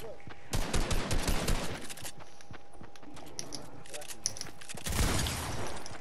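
Gunfire in the video game Fortnite, with a rapid run of loud shots early on, a quieter stretch, then another short burst near the end, with faint background voices.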